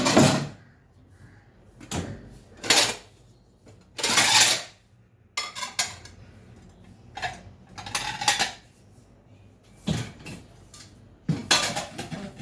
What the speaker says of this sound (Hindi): बर्तन मैंने वॉश कर लिए हैं, अब मैं इनको सेट कर दूंगी अलमारी में।